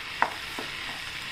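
Spinach, potato and green peas with tomato, red chilli and turmeric stirred in a pan, a brief soft sizzle with a sharp scrape of the spoon at the start.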